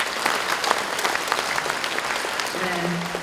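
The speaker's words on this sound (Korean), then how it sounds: "여러분 박수 부탁드립니다." Applause from an audience at a Confucian leaders' assembly fills the hall steadily, dense claps throughout, with a faint tonal sound entering near the end.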